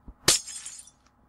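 A single loud, close glass smash in a video game, after a soft thud, followed by a brief scatter of tinkling fragments that dies away.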